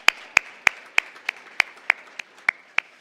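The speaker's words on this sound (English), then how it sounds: "let's give Robin a round of applause for her service." Clapping for an Air Force veteran at a conference: about ten crisp, evenly spaced claps at a slow steady beat, close and fairly loud, with no voices.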